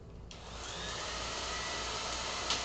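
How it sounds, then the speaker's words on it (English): A hair dryer blows over a watercolor painting to dry it, switching on into a steady, even whooshing hiss that carries on alone with no talking. "And we're back to the hair drying."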